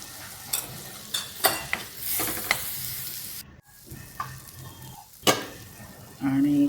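Chopped coriander being stirred into a frying dish, a steady sizzle under repeated scraping strokes of a spoon against the pan, close up, with a brief clatter of utensils and no speech.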